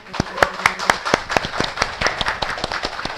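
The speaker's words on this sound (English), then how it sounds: "Please give a big round of applause for them" A small group at a digital marketing training session claps briefly, with distinct, fairly close individual hand claps in a quick uneven rhythm rather than a dense roar.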